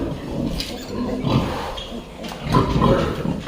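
Piglets grunting and squealing in a pen, a few rough, uneven grunts at close range over a noisy background, without clear talk.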